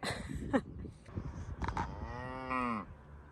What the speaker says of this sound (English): I think there's a cow here.